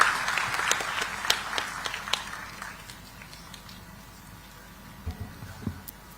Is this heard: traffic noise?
no